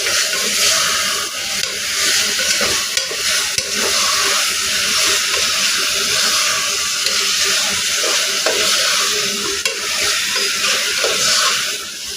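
Chicken pieces are stirred into a sizzling spice mixture for chicken pulusu, a steady loud frying hiss with soft scraping and stirring underneath, continuous throughout with no talking.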